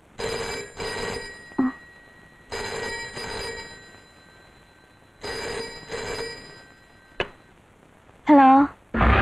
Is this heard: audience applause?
no